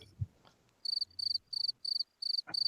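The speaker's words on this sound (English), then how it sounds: "It's making the annoying insect noises." Crickets chirp in five or six short, evenly spaced bursts of rapid pulsed trills, close and fairly clear, with a few soft knocks and rustles between them.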